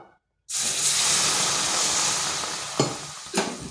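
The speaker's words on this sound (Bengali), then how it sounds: "এটা ভাজা হয়ে গেছে এরপর আঁচটা স্লো আঁচে করে দিচ্ছি আর দিচ্ছি জল" Water hits hot fried semolina in a pan over low heat and bursts into a loud, sudden sizzle that hisses and steams continuously for about three seconds, close up, with two brief stirring scrapes near the end.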